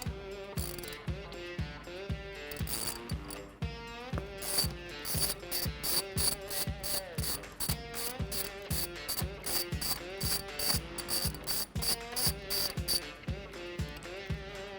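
Rapid ratchet clicks ring out close and clear as a ratchet works a 13 mm bolt loose, with bursts of quick pawl ticking broken by brief pauses while the handle swings back and forth.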